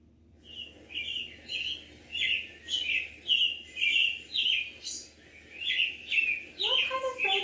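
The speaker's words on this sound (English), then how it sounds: "That's a robin." American robin singing a series of clear, warbling phrases in a steady rhythm, about a dozen short bursts at moderate distance, alone against a quiet background.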